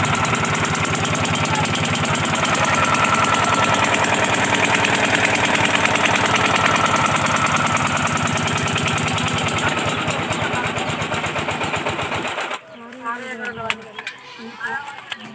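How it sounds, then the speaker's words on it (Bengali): A motorboat engine driving a boat across the river where the Mahananda and Nagar meet, a loud, steady drone that cuts off abruptly near the end, after which faint voices and ambient noise remain. "দেখেন কীভাবে নৌকা চলছে পানির উপরে, খুবই স্পিড"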